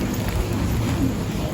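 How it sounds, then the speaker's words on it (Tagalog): Steady rain pours down on a surface in a cemetery, a dense continuous patter at constant loudness with no voices. "Naabutan na po kami na ulan."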